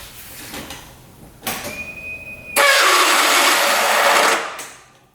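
A UTV engine with a suspected one-way bearing fault is cranked. A whirring starter with a thin whine climbs into a loud, harsh grinding spin that holds for about two seconds and then fades out.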